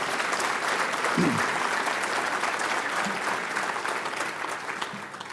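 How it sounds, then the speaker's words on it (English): An audience at a State of the City address breaks into a full round of applause, dense and continuous clapping at steady loudness that tapers slightly toward the end, with a voice faintly present underneath. "So let's hear a round of applause."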